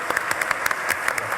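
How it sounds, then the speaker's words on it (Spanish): Audience applause closes a university lecture on spectacle semiotics, a steady wash of clapping with scattered sharper individual claps standing out, moderately distant and fairly soft. "Un aplauso."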